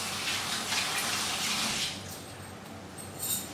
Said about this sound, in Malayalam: ഞാനത് ജസ്റ്റ് ഒന്ന് കൈ കഴുകിയിട്ട് വരാം.